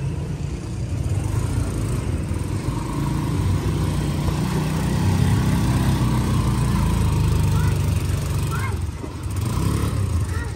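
A motorcycle engine runs steadily and fairly loud throughout, a continuous mid-pitched drone with a slight dip near the end.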